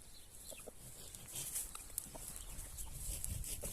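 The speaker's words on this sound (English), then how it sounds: "mad guinea fowl" Guinea fowl call outdoors in a garden, a fairly faint run of harsh, repeated squawking cries over a soft background hiss.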